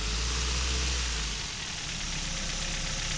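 A car engine runs steadily and close by while a tachometer is tested. Its low rumble eases slightly partway through, and there are no clear rises in revs and no speech.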